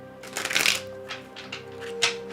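Tarot cards being shuffled by hand, a quick riffling burst up front and softer flicks after, close and fairly quiet over a steady low background hum.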